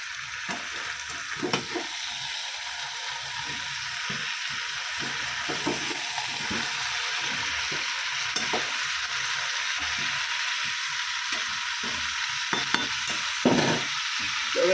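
Ginger-garlic paste sizzles steadily in a hot pan while a utensil stirs and scrapes it, with frequent soft clicks over continuous frying hiss.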